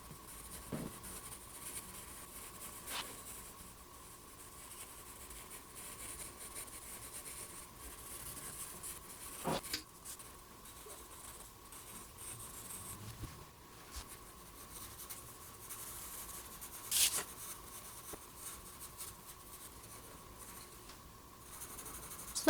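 A 4H pencil shades and draws the bridge of a nose on paper, making faint, continuous scratchy strokes with a few louder scrapes, close and quiet with no talk.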